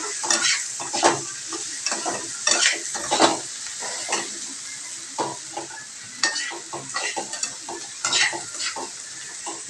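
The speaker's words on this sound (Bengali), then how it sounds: "তো এবার এটাকে ভালো করে নাড়াচাড়া করতে হবে" Ghugni masala of tomato, onion, ginger and garlic paste frying in a pan while being stirred: a steady bright sizzle with irregular scraping strokes up close, no voices.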